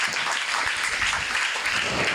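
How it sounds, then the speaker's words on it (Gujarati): Enthusiastic audience clapping welcoming a spiritual speaker at a book release event, dense and continuous throughout. "એમનું જોરદાર તાળીઓથી આપણે સ્વાગત કરીએ"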